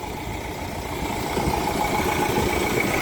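A tractor engine idles close by on a farm field with a steady low rumble that swells slightly partway through.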